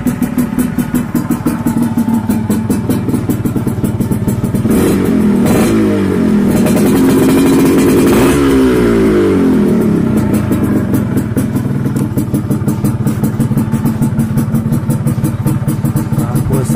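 A 1997 Yamaha RXZ two-stroke motorcycle engine, close and loud, idles with a raspy buzzing putter, then revs up twice in rising and falling surges before settling back to a steady idle.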